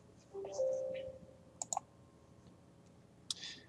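Quiet room with a few sharp computer mouse clicks on a Run button, two close clicks in the middle and another near the end, with faint soft electronic tones and light background noise.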